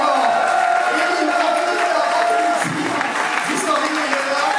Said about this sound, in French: merci à un tonnerre d'applaudissements à la team